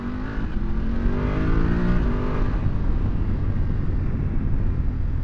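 A BMW F 850 GS motorcycle engine drones steadily while riding, a close, loud hum with a brief rise in pitch early on, mixed with rushing wind.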